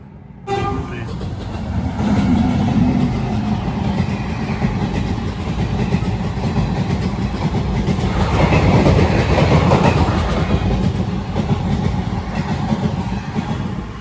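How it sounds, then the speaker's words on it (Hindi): A fast train rushes steadily past at close range, a loud continuous roar with rattling wheels that swells around the middle and holds to the end, with a faint horn-like toot and some background voices. "बड़ी जल्दी खत्म हो गई ट्रेन, ये छोटी थी क्या? फास्ट भाग रही है ना।"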